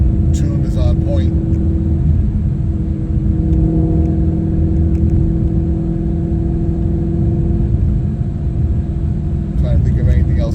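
A supercharged Ford Mustang GT350 cruising on the road, its engine a steady, loud low rumble throughout with a little road noise and no distinct revving bursts.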